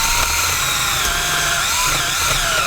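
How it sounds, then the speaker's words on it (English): Step drill bit enlarging a shock post hole on a Ford F100, a steady grinding, whirring drill sound throughout, close and fairly loud, with a slight wavering pitch and no talk. "get you a step drill bit just like so and get to work"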